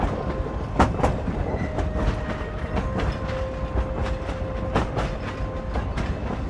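A passenger train rolls steadily along the rails on a fall day, its continuous rumble broken by clickety-clack wheel beats and a faint tonal squeal, heard from on board with no talking.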